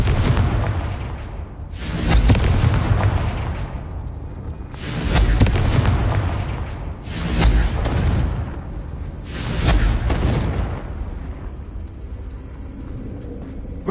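Confringo blasting spells in the Hogwarts video game explode in a series of four loud, booming bursts, each a roaring blast that swells and fades over a couple of seconds, up close with no talking.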